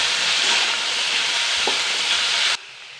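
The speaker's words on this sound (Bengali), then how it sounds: "এই পাঁপড়ের তেলেই হালকা করে আলুগুলো ভেজে দিচ্ছি" Potatoes frying in papad oil in a pan, lightly salted, give a steady, dense sizzle close up that stays even, with a faint scrape near the middle, then drop sharply quieter just before the end.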